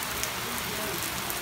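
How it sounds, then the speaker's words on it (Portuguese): Heavy rain pours down steadily in a rural countryside setting, a dense, constant hiss of drops on surfaces filling the whole stretch at moderate loudness with no voices. "olha como tá chovendo. Gente, é muita, muita chuva."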